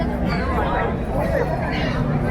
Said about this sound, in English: This is quite the crowd.